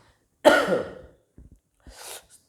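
A teacher with a cold lets out one loud, harsh cough, followed by a few faint breaths and a softer second cough-like burst, close and alone in a quiet room.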